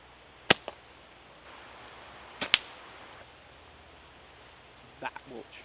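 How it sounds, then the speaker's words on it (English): A new slingshot fires at a target, giving two or three sharp snapping releases spaced a couple of seconds apart, each followed by a quick impact, with faint background noise between. "then we'll shoot some targets, or a target."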